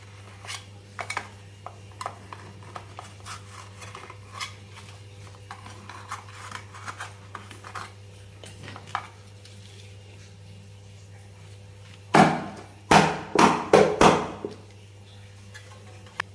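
Flattened rice (aval) sweet snack, set and cooled, being cut into pieces: a quick cluster of four or five sharp knife taps and scrapes near the end, close and fairly loud, after a long quiet stretch with faint scattered clicks.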